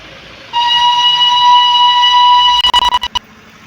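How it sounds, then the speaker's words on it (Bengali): The Darjeeling toy train at Ghum station sounds a loud, sustained whistle for about two seconds, followed by a quick run of sharp rhythmic bursts, heard nearby with no talking. "আমার সাইডে আছে টয় ট্রেন"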